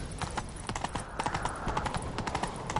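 Video-game horse hooves galloping fast, a close, rhythmic clip-clop of repeated hoofbeats heard alone throughout.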